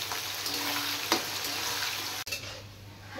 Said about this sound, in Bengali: এবার আমি কেটে রাখা পেঁয়াজগুলো ফ্রাই করে নেব